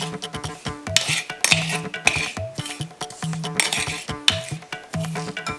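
Fish curry ingredients are stirred in a pot with a metal spoon, giving repeated clinks and scrapes against the pot over steady background music.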